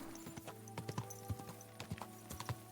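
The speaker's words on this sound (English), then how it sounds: "Wait, whose horse is that?" A horse walks along a road in Kingdom Come Deliverance 2, its hooves giving a steady, fairly quiet clip-clop at a relaxed walking rhythm with no voices over it.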